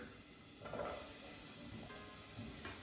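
Diced shallots and poblano peppers sizzle in olive oil in a pot, a faint, steady frying hiss with a few soft swells as the pieces are moved around.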